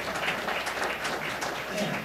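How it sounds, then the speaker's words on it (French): Audience applause at a plenary conference session, a brief burst of many hands clapping from a moderate distance with a voice faintly underneath. "On l'applaudit."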